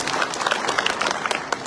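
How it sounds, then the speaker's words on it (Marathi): An audience at a party workers' gathering and felicitation meeting claps for women campaign workers, a short, dense burst of many hands close by with no talk. "त्यांच्यासाठी एकदा टाळ्या वाजवा"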